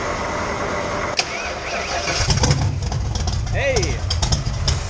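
A 1979 Mustang engine cranks with a sharp catch and then fires, settling into a rough, loud idle up close, while people shout and talk over it.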